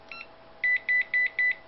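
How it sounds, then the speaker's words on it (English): Four short electronic beeps in an even rhythm, clear and close, from an EDS-88A CapAnalyzer warning of a bad capacitor, after a faint brief chirp at the start. "The CapAnalyzer beeps anywhere from 1 to 5 beeps depending on the scale."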